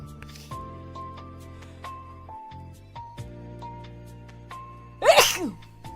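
A single loud, sharp sneeze bursts out near the end, following a stretch of quiet electronic tones and music.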